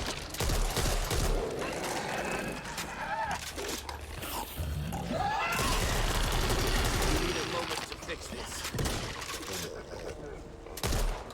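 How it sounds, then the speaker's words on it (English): Gunfire in the video game Back 4 Blood keeps cracking at zombies in repeated bursts, set against growls and the din of battle, with someone talking over much of it. "Shoot zombies off in the distance."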